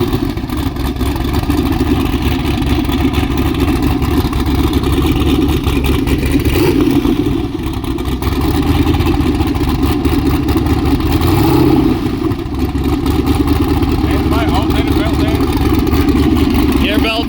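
A drag car fitted with an angle kit revs its engine while trying to do a donut, a loud, steady droning roar that swells and dips, with occasional speech over it.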